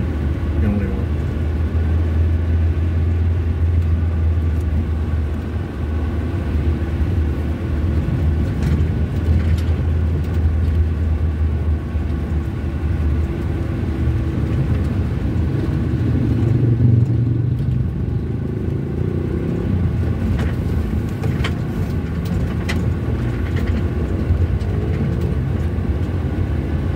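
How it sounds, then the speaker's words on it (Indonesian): On a quiet village road at night, a vehicle engine rumbles steadily nearby and swells as it passes, a loud low drone with faint clatter running throughout. "Ini 1-2 kendaraan ya yang lewat"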